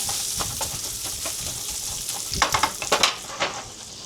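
Onions and rice frying in a hot pan for taco night, a continuous crackling sizzle with a run of sharper spatula scrapes and pushes toward the end; no voices.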